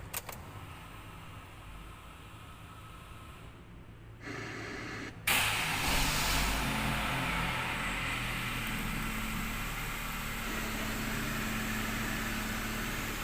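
A Wuling Confero S 1.5 manual from 2019 starts up; after a brief change in background noise, the engine catches and settles into a steady, low idle hum heard nearby.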